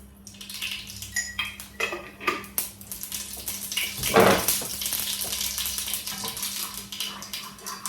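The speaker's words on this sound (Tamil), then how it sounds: "இப்போ பாருங்க கடுகு வந்து பொடிபட்டுட்டுது" Mustard seeds crackling and spluttering in hot oil in a pan, a busy close patter of pops with a louder burst midway and utensil clinks, no voices.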